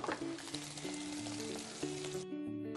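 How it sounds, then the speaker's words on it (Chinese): Minced pork, a fatty-and-lean mix coated in beaten egg, fries in a pan with a steady crackling sizzle that runs throughout, with soft tonal music underneath. "咱们把这刚才用蛋液拌过的这个肉馅儿，咱们给它煎一下"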